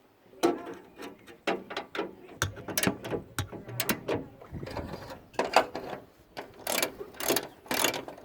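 A ratchet tightens bolts on the electric cooling fan of a Ford Capri, giving close, repeated bursts of quick metallic clicking with short pauses between strokes and no talk.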